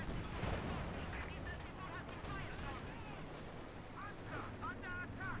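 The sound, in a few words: MG-34 machine gun fire in Company of Heroes 2 video game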